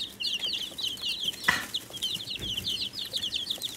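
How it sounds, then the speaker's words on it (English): Baby chickens cheep and peep in rapid, high-pitched bursts, close by and continuous, with a soft thump or rustle midway as one bumps against a hand. "My baby chickens."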